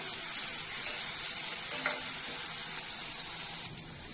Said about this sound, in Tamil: ஒரு பாதி தக்காளி பொடியாக கட் பண்ணது இதையும் வதக்கிக்கலாம்